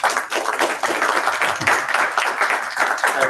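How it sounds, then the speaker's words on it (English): A conference audience at an international diversity, equity and inclusion event claps throughout, a full, steady round of applause with no talking over it. "Give a huge applause once again to him."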